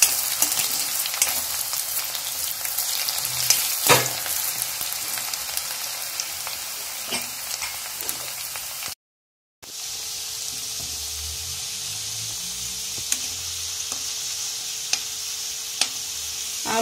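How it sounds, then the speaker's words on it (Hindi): Potato pieces frying in oil until golden brown for aloo badi sabzi, a continuous close sizzle with sporadic clinks of a stirring spoon, briefly cut off by a short gap before the crackling resumes. "आलू को भी हम गोल्डन ब्राउन होने तक फ्राई करेंगे।"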